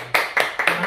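Rhythmic hand claps from a radio or TV studio announcer, four sharp bursts in quick succession, close and moderately loud with no talk.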